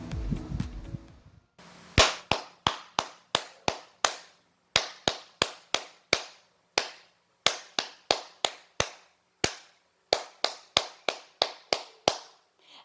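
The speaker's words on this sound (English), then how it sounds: "let's clap our hands with the following rhythmic patterns" Hands clap out rhythmic patterns in a music lesson, sharp, close, dry claps in short grouped bursts with clear gaps between phrases, after a brief opening burst of noise.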